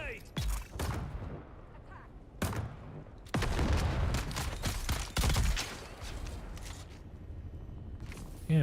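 Gunfire in the sci-fi survival game Dune Awakening, arriving as several loud bursts and volleys of shots with a dense stretch in the middle, over voice chat and game noise.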